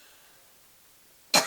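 A single sharp cough bursts out near the end, loud and close, after a stretch of quiet room tone.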